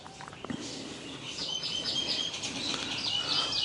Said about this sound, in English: All these birds flying around